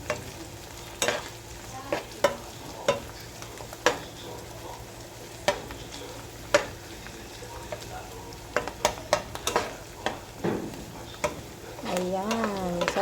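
Mushrooms sizzle in a pan for a creamy chicken dish, with a steady frying hiss throughout. A spoon scrapes and taps the pan at irregular intervals, and a voice is faintly heard near the end.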